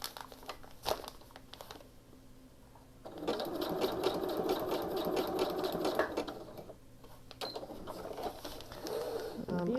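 A sewing machine stitches through an Amazon envelope being made into a journal, whirring in bursts with pauses for pivoting the work, with some crinkling of the envelope material and faint voice in the background.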